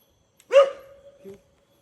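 A single dog gives one sharp bark followed by a drawn-out whine and a soft second yelp at night at a hillside stay in Munnar, Kerala, close by and alone with no voices.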